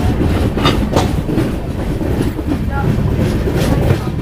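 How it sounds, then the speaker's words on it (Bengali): The Kanchan Kanya Express rolls into a station, its wheels clattering in a loud, continuous rhythm close by, with a voice speaking faintly beneath the rumble. "ট্রেন ঢুকছে দশটা পনেরো"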